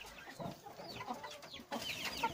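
Hens in a chicken coop cluck in scattered bursts, faint to moderate, with soft rustling and a louder flurry near the end.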